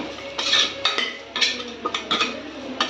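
A spoon scrapes and clinks against a pan while onions or masala sauté with Kashmiri chili powder, repeating in a steady rhythm of close, bright metallic strokes, with no talking.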